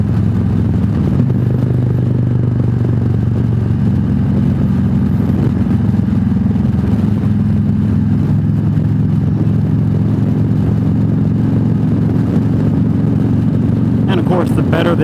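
Freewheeler motorcycle trike riding around a curve, a steady low engine drone with road and wind noise, close and continuous, with someone talking over it.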